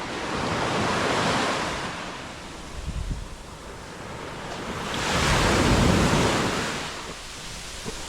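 Surf on Sunset Beach in Thailand's Andaman Sea, waves washing in and swelling twice in broad rushing hisses, loud and close, with some wind noise on the microphone.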